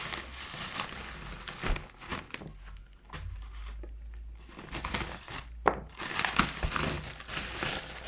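Packaging around a vintage Electro-Tat kettle is pulled open by hand, giving close, uneven bursts of crinkling and crumpling with short pauses between handfuls.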